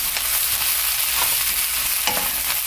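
Fish cake stir-frying in a pan gives a steady, close sizzle with occasional stirring scrapes and clatters throughout, with no voices.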